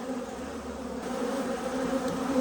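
Honey bees buzz in a dense, steady drone around an open hive, close and continuous, with no talking.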